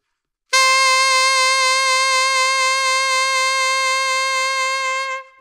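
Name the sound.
saxophone note with exaggerated deep vibrato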